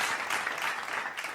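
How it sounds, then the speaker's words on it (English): Canned applause played from a sound-effect button during a talk show Q&A, a brief, even wash of crowd clapping that stays steady and fairly soft throughout. "एक बटन दबाओ, applause वाला बटन."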